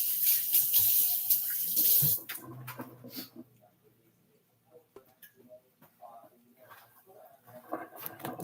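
A kitchen tap runs loudly for a couple of seconds as hands are washed at the sink, then cuts off, leaving clicks, small clatters and someone talking intermittently.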